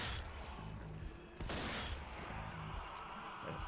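Gunfire in the zombie shooter Zombie Army 4: Dead War crackles in quick bursts over a dense game mix, with one sharp shot standing out midway; the whole scene is fairly faint.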